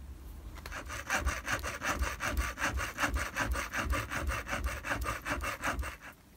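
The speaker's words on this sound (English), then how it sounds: "I want a hacksaw down there and then bend them either way" A hacksaw works back and forth through a metal staple in a pewter-casting workshop, its rapid, even rasping strokes continuing close and loud with no talking.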